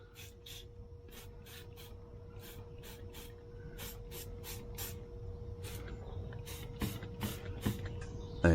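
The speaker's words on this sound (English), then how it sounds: "So we start spraying stuff, looking for leaks." Leak-check spray is sprayed on a semi truck's air fittings in bursts of short, sharp hisses, roughly twenty of them in an irregular rhythm, close and clear over a steady low mechanical hum.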